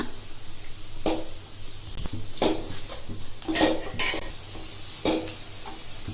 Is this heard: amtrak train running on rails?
no